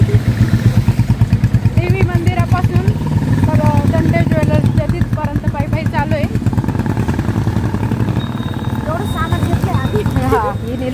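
A motorcycle is ridden on the way to a village fair: a loud, continuous engine drone runs throughout while people talk over it.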